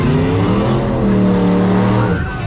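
A Corvette sports car engine roars loudly and steadily at a drag race, its rising harmonics sweeping upward as revs climb, with no talk over it.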